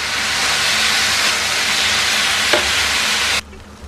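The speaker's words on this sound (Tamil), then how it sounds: "கலந்து இப்படி கலந்து கலந்து விட்டு வேக வச்சுக்கோங்க" Chicken shawarma pieces stirred and fried in a pan, a steady loud sizzle with scraping stirs throughout that cuts off abruptly near the end.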